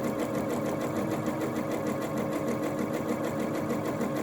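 A Janome DC6050 sewing machine stitches steadily and close, a continuous whirring motor with fast even needle chatter running unbroken, with no talk.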